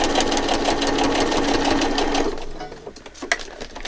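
Sewing machine stitching a soft fabric journal cover with shiny gold material, running steadily and loudly up close for about two seconds before stopping, followed by faint handling clicks.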